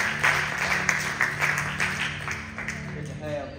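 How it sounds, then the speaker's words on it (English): Congregation clapping hands together during an evening church service, a steady mass of overlapping claps carrying on for several seconds at moderate loudness in a reverberant room. "let's give the Lord a good hand clap"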